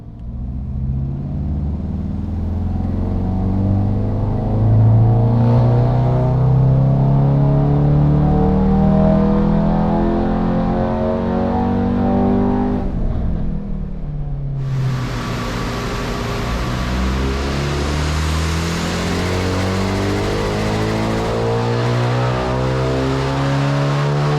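Tuned 2019 VW Golf R with a Stage 2 tune accelerating hard in race mode on a dyno, loud sustained engine roar rising steadily in pitch, a brief shift dip midway, then climbing again with a hissing rush.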